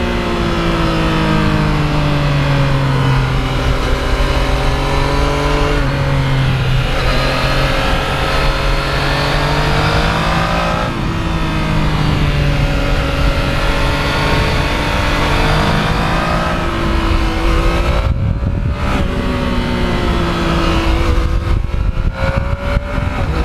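Yamaha MT-09 naked motorcycle engine pulling hard and smoothly through its rev range, a loud, steady mechanical note climbing in pitch with brief dips at gear changes, close and continuous with no talking.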